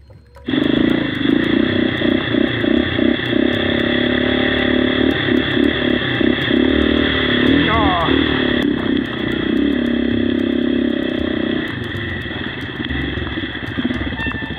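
A motorcycle engine drones loudly and steadily up close on the rough Mauban-Cavinti mountain trail in the Sierra Madre, with some rattling and clatter over the rumble.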